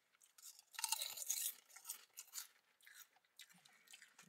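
Crunchy honey barbecue potato chips being chewed close up, a run of dense crisp crunches in the first half easing into softer, scattered bites and mouth sounds, with no talking.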